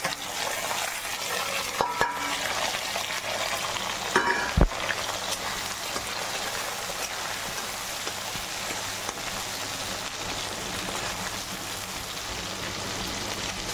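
Onion and tomato frying with potatoes in a pan hiss and sizzle in a steady broadband wash, broken by a few sharp clinks of a utensil against the pan near the start.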